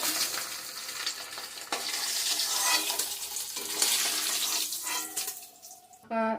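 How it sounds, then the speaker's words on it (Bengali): Pieces of hilsa fish dropped into hot oil to fry lightly, giving a loud, steady sizzle and crackle with scraping and stirring throughout, then a short sharp burst near the end. "ফেলে দিলাম মাছগুলো"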